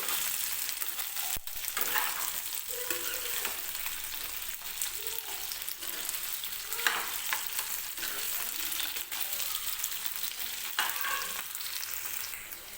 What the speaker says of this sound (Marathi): मी हा बटाटा जो आहे तो तेलामध्ये फ्राय करून घेते